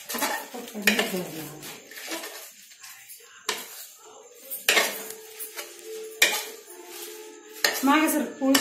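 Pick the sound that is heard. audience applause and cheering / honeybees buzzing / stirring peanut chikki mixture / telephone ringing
stirring peanut chikki mixture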